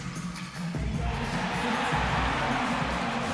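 Crowd noise filling a basketball arena in Cleveland in the NBA 2K17 video game, a broad murmuring roar that swells after a brief dip and holds steady, with faint thuds beneath.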